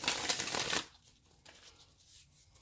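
Cards drawn from a separate deck during a card reading: a short, brisk riffle of handled cards close by, then a few faint rustles and near silence.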